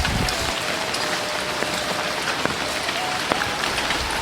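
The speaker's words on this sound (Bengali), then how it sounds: "আমাদের বাগেরহাটে হঠাৎ করে একটানা দুই তিন দিন যাবৎ প্রচুর পরিমাণ বৃষ্টি হচ্ছে" Heavy monsoon rain pours steadily in a village in Bagerhat, Bangladesh: a dense, even hiss of drops with occasional sharper spatters, close and continuous.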